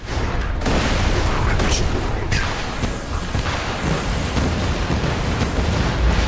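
Missile explosions in Borderlands 2 make a dense, continuous rumble of booms and blasts, loud and close throughout, with no clear gaps between impacts.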